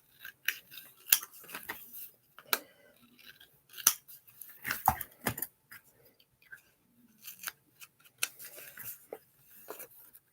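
Scissors cutting through a cereal box, with crisp snips and crunching cardboard in irregular bursts, close and fairly loud, separated by quiet pauses and small handling sounds.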